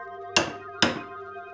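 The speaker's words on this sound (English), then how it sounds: "I center punch the wood" Two sharp hammer blows on a center punch set into wood, close and distinct, about half a second apart, each a bright metallic strike with a quick ringing decay.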